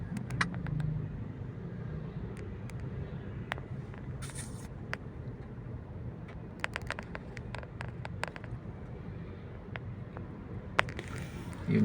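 Road traffic at a busy McKinley intersection: a steady low rumble of cars with scattered clicks, scrapes and brief higher bursts, fairly close and continuous throughout.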